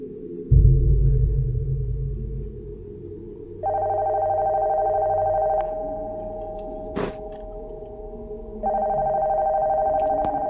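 Telephone ringing in a horror video game: a steady electronic ring starts partway through, cuts off, then returns for a second burst, over low rumbling ambience with a sharp click in between.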